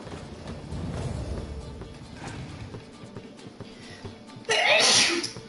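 A single sharp sneeze bursts out near the end, loud and close, after several seconds of low background murmur during a live-streamed card game.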